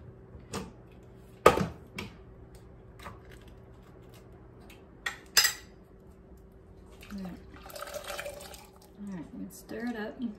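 Canned butter beans tipped from the can into a cooking pot: a few sharp metallic clanks, then a soft, wet sliding slosh as the beans and liquid land, close and fairly quiet.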